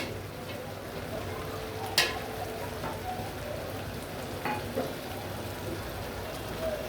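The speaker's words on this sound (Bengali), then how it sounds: "আমি আলু, ছোট আলু কেটে সেদ্ধ করে রেখেছিলাম, এখন দিয়ে দেব" Boiled small potatoes going into rice for biryani that is frying in oil, giving a steady sizzle and crackle with a few sharp clinks and stirring knocks.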